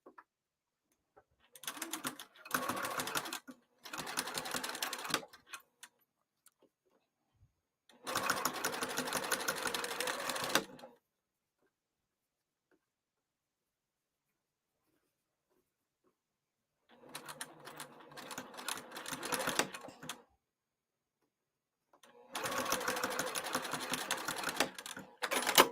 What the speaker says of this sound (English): I'm going to sew that first.